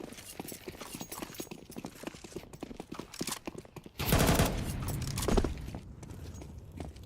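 Galil rifle fire in a Counter-Strike pro league match, a burst of loud, dense automatic shots lasting over a second amid quick game footsteps and clatter, with no talk.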